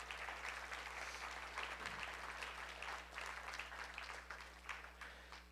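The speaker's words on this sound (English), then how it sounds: "Let's give him a round of applause." A church congregation gives a round of applause after a sermon, a faint but steady patter of many hands clapping that tapers slightly toward the end.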